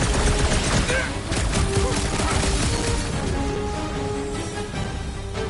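Rapid gunfire from a shooting fight in Guardians of the Galaxy, dense repeated shots and impacts throughout, mixed with game effects and a voice speaking over the action.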